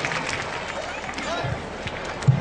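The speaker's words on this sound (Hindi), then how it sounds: "तालियां, जोरदार तालियां, जोरदार और जोर से।" Applause from the audience at a school annual function, a continuous wash of clapping that sounds moderately distant and fairly soft, with a few sharper claps standing out.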